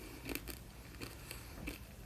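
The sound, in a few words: crunching Fox's mint imperials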